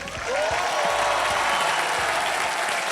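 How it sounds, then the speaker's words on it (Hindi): Loud, dense applause from a studio audience on a Hindi TV quiz show, a steady sustained wash of clapping that swells in at the start and holds at full strength throughout. "जोरदार तालियां"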